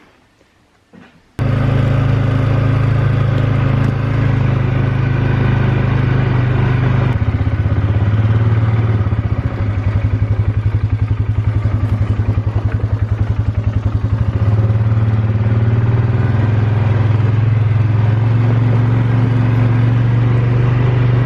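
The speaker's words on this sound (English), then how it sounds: "I'm so glad to be able to drive the four-wheeler up this far." Four-wheeler ATV engine droning steadily and loudly up close as it drives up a hill, starting abruptly and running continuously with a low rumble and slight shifts in pitch, no talk.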